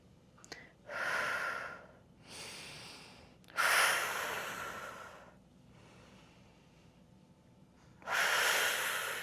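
Deep breaths in and out during a morning full-body exercise routine, several loud breathy bursts at an uneven pace with quieter gaps between, close to the microphone and with no talking.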